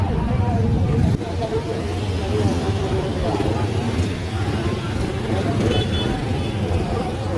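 A congested night road in Bombana with cars and buses crawling past close by, a dense engine rumble with scattered horn toots and background chatter from people nearby.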